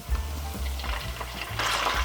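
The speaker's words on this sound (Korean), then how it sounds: "마늘이 이제 노릇노릇하게 익어가는 게 보일 때 토마토 넣어주시고" Halved tomatoes added to garlic browning in oil for gambas, giving a moist, bubbly sizzle with a few low thumps and a brighter hiss near the end, close by and without speech.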